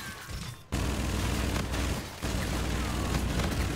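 Gunfire from the shooter game Call of Duty Infinite Warfare, a dense sustained burst of rapid shots filling the clip, briefly breaking off after a short opening stretch and again near the middle before the firing resumes.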